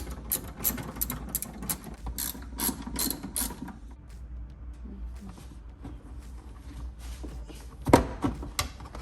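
A ratchet wrench clicks rapidly while a bolt is removed from a Honda Civic seat, with fast, loud, close ratcheting at first that eases into quieter mechanical handling and a sharp knock near the end.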